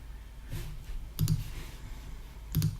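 A computer mouse clicks a few times in quiet, spaced-out single and double presses, close and fairly soft over faint background hiss.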